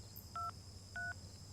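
Two short electronic dial tones sound in succession, evenly spaced, over a low background hum, like a phone line ringing out.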